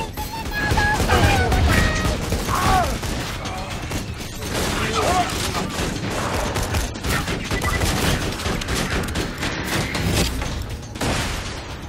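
Assault rifle fire in Borderlands 2, a sustained run of rapid shots layered with game effects and crashes, loud and continuous for about twelve seconds with no voice over it.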